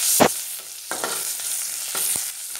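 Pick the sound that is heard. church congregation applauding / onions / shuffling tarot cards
onions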